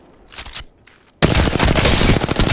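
Alternator submachine gun in Apex Legends firing a sustained automatic burst after a couple of quieter handling sounds, rapid loud shots close up with no talking.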